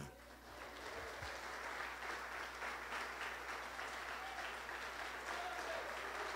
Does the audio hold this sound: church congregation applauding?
yes